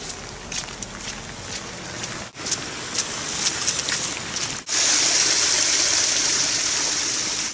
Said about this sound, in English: Pouring rain in the Bay Area.